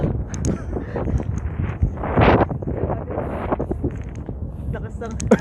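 Strong, cold gusty wind buffets the microphone in rough, uneven blasts while people chat nearby.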